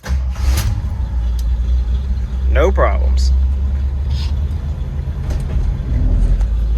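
A Jeep engine runs after an alternator replacement, a steady low idle rumble that continues throughout while someone talks briefly over it.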